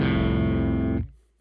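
Baritone guitar played through a Kemper Profiler with its basic, lightly distorted tone: one sustained, harmonically rich chord ringing loud for about a second, then cut off, with a faint noise after.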